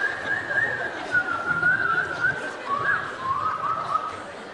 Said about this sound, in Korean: 처음 악기 없으면 휘파람.